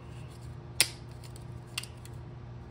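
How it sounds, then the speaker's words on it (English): Plastic supports of a brushless fan snipped with a cutter: two sharp, isolated snaps about a second apart, the first louder, close and otherwise quiet. "I'm going to cut the plastic supports"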